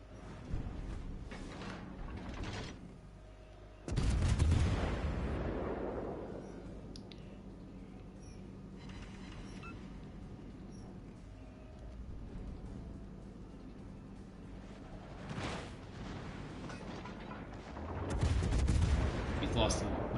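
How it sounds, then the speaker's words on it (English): Heavy ship guns fire in a World of Warships Legends naval battle, with a few big booming salvos spaced apart and rumbling decay under quieter background noise. "The blazing of the guns."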